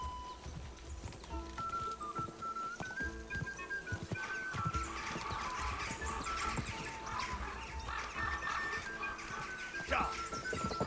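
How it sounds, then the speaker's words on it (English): Horse galloping in Kingdom Come: Deliverance II, steady hoofbeats running through the whole stretch beneath music and game ambience, with excited talk over it. "o meu cavalo não se aguenta nas canetas"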